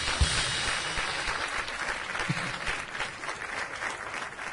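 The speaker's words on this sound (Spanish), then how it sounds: "Alguien que le dé el aplauso al Señor." A church congregation claps together in a steady, full wash of applause, continuous and fairly loud throughout without any talking.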